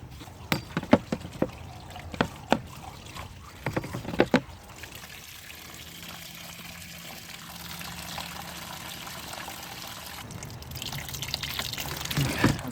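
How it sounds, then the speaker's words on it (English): Worm tea and water are poured over garlic to soak it, a light trickle and splash with scattered clicks and knocks of handling, close by and with no talking. "So I'm going to just add a tiny bit of my worm tea."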